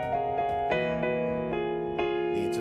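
Piano chords played in a 7-3-6 progression, several struck chords in sequence, each ringing on clearly with sustained harmonics, moderately loud and unaccompanied.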